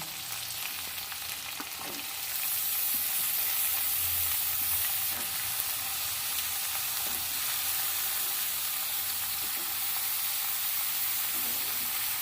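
Potato and eggplant pieces frying in oil in a pan, a steady bright sizzle that swells after the first couple of seconds, with faint scraping knocks as the pieces are stirred.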